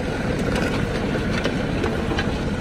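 A John Deere 5050 4x4 tractor with an 18-disc harrow, running at about 500 rpm, gives a steady, loud, broad engine rumble with no break.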